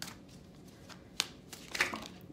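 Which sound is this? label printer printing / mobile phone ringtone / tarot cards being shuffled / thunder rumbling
tarot cards being shuffled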